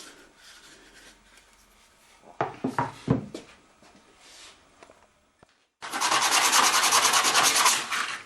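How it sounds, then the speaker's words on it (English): Sandpaper rubs a wooden dowel for a stick dulcimer mold in a workshop, a steady loud scratchy burst near the end after softer handling knocks and bumps. "I'm just sanding down the dowel so that it doesn't stick."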